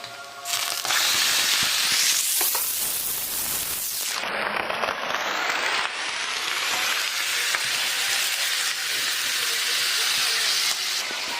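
Chicken meat tipped into a hot pan of lightly fried chilies sets off a loud burst of sizzling and hissing that swells sharply, then settles into a steady, close frying roar.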